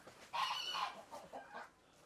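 Farm chickens cluck faintly in a short series of three or four choppy calls, sounding somewhat distant within a quiet setting.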